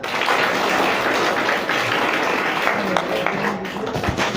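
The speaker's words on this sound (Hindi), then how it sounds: "ताली बजा दो बेटा" Children clap together at a school Independence Day celebration, a dense, steady patter of many small hands that continues evenly for several seconds.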